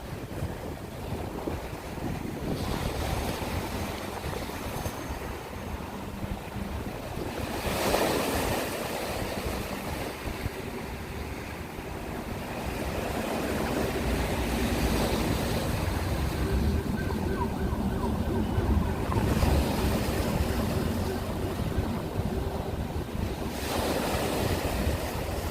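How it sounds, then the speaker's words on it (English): Hudson River water near lower Manhattan lapping and washing continuously, mixed with gusty wind buffeting the microphone, a steady broad rush rising and falling in surges throughout. "Just hear the water and relax for a moment."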